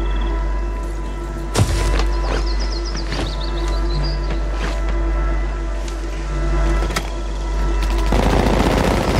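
Gunfire in the Warzone video game: scattered sharp shots and short bursts sound over a steady engine-like drone, fairly distant and moderately loud, with no talking.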